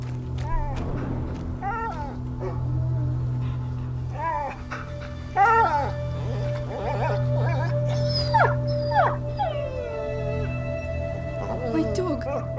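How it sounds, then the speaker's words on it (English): A dog in the medieval adventure game A Plague Tale: Innocence whimpers, yelps and howls in rising, wavering cries over a low droning hum, with voices speaking at times. "My dog."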